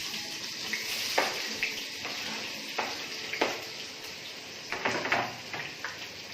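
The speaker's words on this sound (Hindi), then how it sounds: "ऑयल के अंदर प्याज शामिल की और इसे आपने जरा ब्राउन कर लेना है" Sliced onions sizzle in hot oil for Hyderabadi chicken dum biryani, a steady hissing fry with occasional sharper crackles and spatters, fairly quiet, with no one talking.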